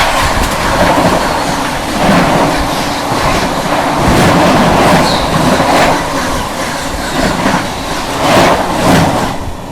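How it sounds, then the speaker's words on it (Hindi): The 12987 Sealdah Ajmer Superfast Express running at speed, a loud continuous rumble with rhythmic wheel clatter over rail joints, heard up close throughout with no voices. "12987 शालदा अजमेर सुपरफास्ट एक्सप्रेस।"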